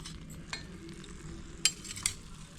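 Adhirasam, a sweet of rice flour and sugar, frying in oil with a low bubbling sizzle, a few sharp metallic clinks from a ladle against the pan, quiet and close.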